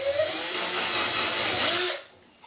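A power drill whirs loudly for about two seconds, boring a hole through a lid, then winds down and stops.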